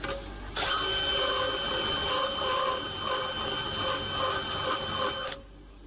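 An electric drill spins steadily for about five seconds, grinding down a modified tool used for Mercedes diesel injectors, with a high, even mechanical whine that starts and stops abruptly.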